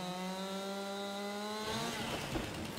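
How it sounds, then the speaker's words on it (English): A chainsaw in the Farming Simulator 22 video game revs with a steady buzzing drone, then bites into wood with a rougher, gritty cutting sound, heard alone. "You just need to use a chainsaw."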